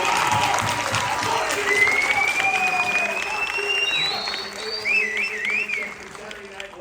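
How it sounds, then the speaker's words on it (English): An audience at a Misfits boxing undercard press conference applauds continuously, with some cheering and raised voices mixed into the dense, steady clapping. "have a big round of applause for all 25"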